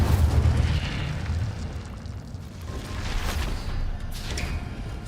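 Incendio fire spell in the video game Hogwarts Legacy, heard as a sustained roaring, rumbling burst of flame that holds loud for the whole stretch and swells again near the end.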